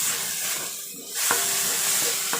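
Chopped tomatoes sautéing in a pan for sinigang na bangus, a steady close sizzle and hiss with faint stirring scrapes throughout, no voices.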